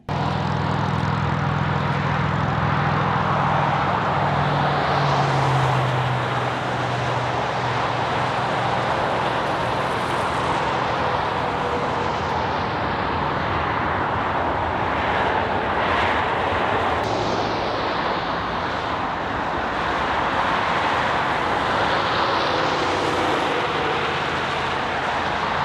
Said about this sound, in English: we caught a train crossing the Flathead River